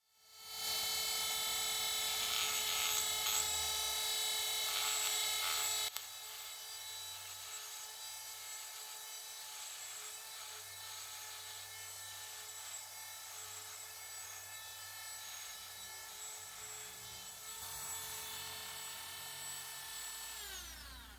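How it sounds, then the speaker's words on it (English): A grinder works back the edge of a bicycle's front brake disc, starting with a loud, dense whine for about six seconds, then settling into a steadier, slightly quieter high-pitched grind with a lower rumble that runs to the end. "So we'll just kind of grind that back a tiny little bit,"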